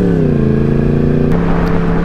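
A fast motorcycle engine revs loudly and steadily nearby, its strong harmonic drone rising and holding, with a slight shift in pitch partway through and no talking.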